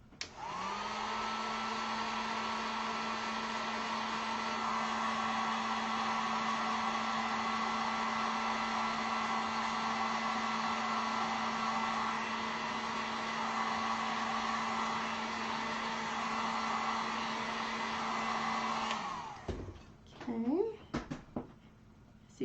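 A heat gun blowing on acrylic paint gives a loud steady whine and rushing airflow that runs continuously for about nineteen seconds, then shuts off, followed by a few light handling sounds.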